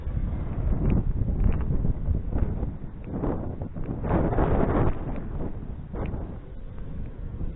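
Strong outdoor wind buffets the microphone during a flight of an Emax BabyHawk R Pro 4-inch FPV racing drone, producing loud, uneven gusting rumbles that swell and fade with no talking.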